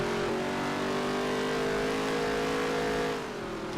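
Stock car engine in the NASCAR Heat 3 racing game, a loud steady high drone holding pitch while racing, easing slightly near the end, with no talk.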